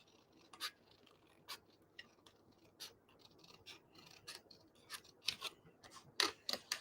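Small scissors snip around stamped paper pieces in fussy cutting, quiet and close, a loose series of crisp individual snips with soft paper rustling between them, growing denser near the end.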